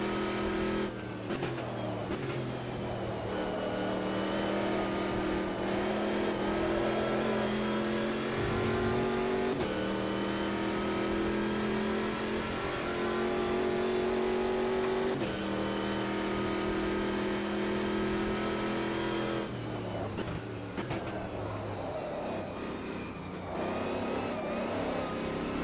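A race car engine in the Automobilista 2 sim racing game drones and revs steadily through laps, with repeated upshifts and downshifts breaking the continuous, loud, close-up engine note.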